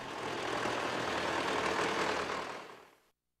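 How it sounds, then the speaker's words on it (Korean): Tractors leaving a cooperative farm roar with a dense, heavy engine rumble that holds steady, then fades quickly and cuts to silence. "트랙터로 발동소리를 높이 올리며"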